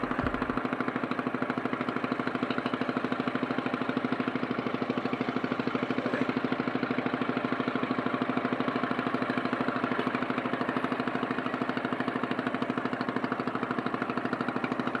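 A trawler's engine runs at sea with a steady, close, rhythmic throb and a constant mechanical drone for the whole stretch; no voices.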